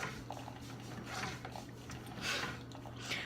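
A coffee machine making a cappuccino whirs and hisses with a steady mechanical hum and bursts of frothing steam, fairly quiet and close by.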